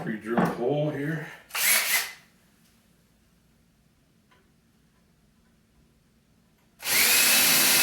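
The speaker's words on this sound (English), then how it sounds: "So I'll pre-drill a hole here." A power drill whirs close by in a short burst drilling a pilot hole in wood on a grandfather clock sound board, stops for several seconds of near silence, then starts drilling again loudly.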